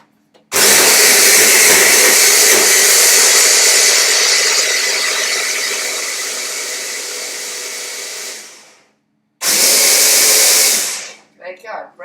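A slice of bread is blitzed into breadcrumbs in an electric blender, a loud, close, steady whir that runs for about eight seconds and slowly eases. After a short silence, a second burst follows.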